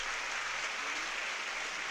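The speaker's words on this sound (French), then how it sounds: "Pierre Gerber satisfait et bien applaudi chaleureusement par le public des" A crowd applauds steadily at the Moselle Open tennis tournament in Metz, dense and continuous clapping filling the arena.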